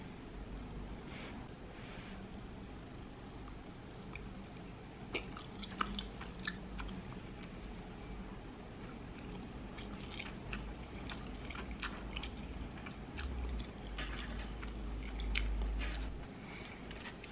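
Someone chewing and eating rehydrated packaged food, with soft, close, irregular mouth sounds and light crunches over a faint low background hum, no talking.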